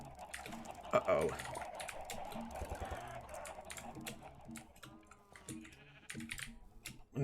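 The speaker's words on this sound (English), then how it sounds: "We need to feed our sheep." Sheep bleating in Minecraft, a few short wavering bleats under steady computer keyboard typing and clicking, with a voice talking faintly at times.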